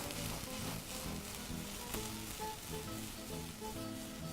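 Smashed garlic cloves sizzle steadily in hot oil in a pan while beef pilau is being made, a continuous close frying hiss with no talking.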